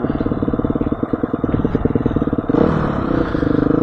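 A motorcycle rides through the Nevada desert, its engine a close, steady mid-pitched rumble with fluttering pulses that swells louder about two-thirds through, alongside light clatter and no talking.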